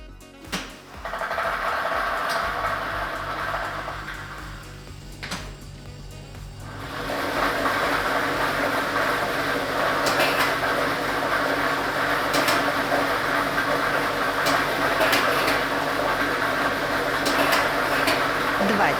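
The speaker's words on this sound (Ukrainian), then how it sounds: "Тиражна комісія до початку гри довільно обрала лототрон Б комплект кульок номер 2 І ми вмикаємо лототрон." A lottery ball-drawing machine with a set of balls switches on, and a steady whooshing blower hiss follows with faint rattling clicks from tumbling balls. Someone talks before it starts.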